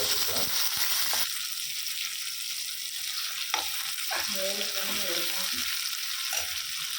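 Tomatoes and onions sauté in a hot pan for mutton thokku, a constant hiss with occasional stirring scrapes and clinks, close by.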